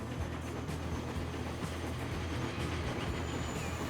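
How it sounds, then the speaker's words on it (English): A train passes in the Transport Fever 2 video game as a faint, steady rolling rumble and hiss. It stays even throughout with no distinct clacks. "There goes one of our other trains."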